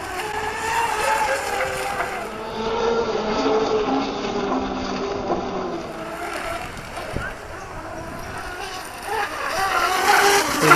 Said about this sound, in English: This is what's so exciting about running a tunnel hull, is you got to be on the throttle.